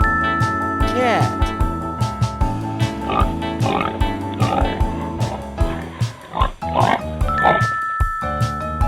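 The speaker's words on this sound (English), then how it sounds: "Pig." A pig grunts and oinks in short snorting bursts, scattered across the clip and mixed under a steady, upbeat backing tune.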